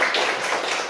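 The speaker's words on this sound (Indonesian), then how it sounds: "Mari kita tepuk tangan." Hands clapping together in a primary school classroom during a reading-aloud lesson, a steady dense patter of many small hands held evenly for a second.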